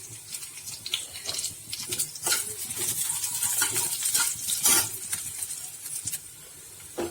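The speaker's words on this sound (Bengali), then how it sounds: "গোটা জিরেটা দিয়ে দিলাম" Whole cumin seeds hit a hot pan and sizzle, a close hissing crackle that swells and fades, with light clinks of a utensil and no voices.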